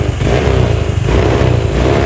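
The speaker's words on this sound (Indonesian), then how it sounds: "Ini di saat kita hidupkan teman-teman, motornya mudah gampang hidup ya" A Honda Vario scooter with a stuttering, hesitant running fault idles steadily after starting, its engine close and loud with an even, unbroken putter throughout.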